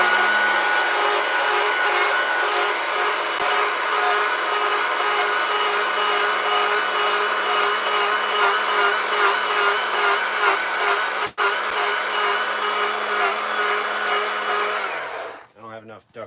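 A chainsaw carving a big wooden bear runs at a loud, steady high-pitched whine with slight wavering for about fifteen seconds, then cuts off abruptly near the end.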